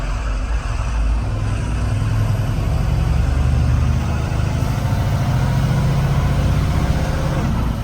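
A fully loaded truck's diesel engine drones loudly and steadily at close range through a gear change, a deep continuous rumble with a slight rise and fall in pitch.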